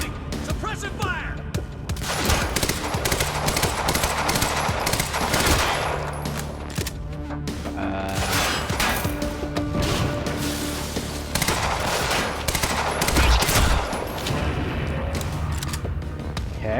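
Sustained video game gunfire in Quantum Break, with dense bursts of automatic fire, booming impacts and scattered thuds running through the whole stretch, loud and close, mixed with game effects.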